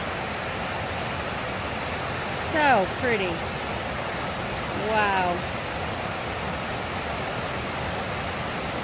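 A large waterfall cascade on the Housatonic River gives a steady, broad rushing roar throughout. A few faint whistling bird calls come through, and quiet voices speak over it.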